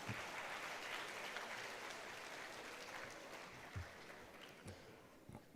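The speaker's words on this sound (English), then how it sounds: "A huge round of applause for her, please." A seated crowd at a conference for chartered accountancy students in Bengaluru claps steadily, a broad even patter heard at some distance and fairly faint, with a few louder individual claps near the end and no talking.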